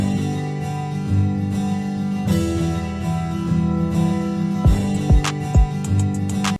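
A free acoustic guitar VST plugin strums a two-chord MIDI pattern with the strum option switched on, sounding dense and steady throughout, with a few sharper plucked accents near the end.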